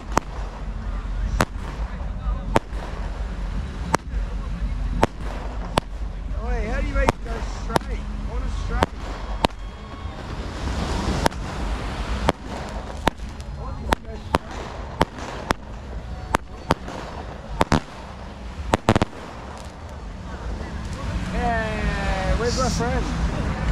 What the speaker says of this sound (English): We're blowing all our money on fireworks, man.